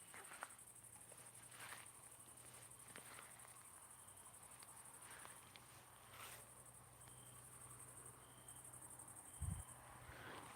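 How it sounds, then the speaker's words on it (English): Crickets chirp steadily in an open field, a high continuous shimmering trill close by, with faint rustles and a soft thump near the end. "I'm in a field. I'm going live with the crickets"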